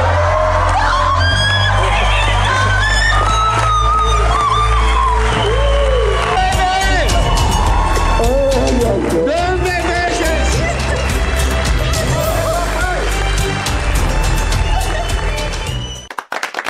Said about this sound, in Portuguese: A nossa claque também aplaude aqui.